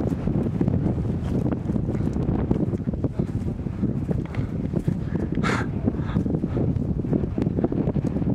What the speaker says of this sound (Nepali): यहाँ कुनै वृक्ष बोट बिरुवाहरू छैन, हावा चलिरहेको छ